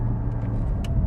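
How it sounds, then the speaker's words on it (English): Porsche Cayman GT4 sports car engine humming steadily from behind the cabin, a low continuous rumble with a faint swell, plus a brief higher burst near the end. "Hearing the engine and the revs kind of swelling up behind you"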